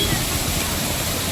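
Water from a nearby stream pours down in a steady, loud rushing hiss, close and continuous for the whole brief moment, with no pause or change.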